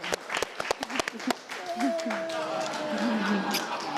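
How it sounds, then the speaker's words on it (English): Sharp scattered claps from a talk-show studio audience, a quick run of loud hand claps that gives way to crowd noise with voices and cheering over a softer background of applause. "Come on, clap them hands."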